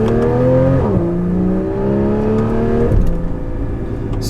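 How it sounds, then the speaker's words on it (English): A Porsche 981 Cayman with a valved performance exhaust roars loudly as it accelerates in manual sport mode, the engine tone climbing steadily, dropping at a gear change, then rising again. "Here's some acceleration."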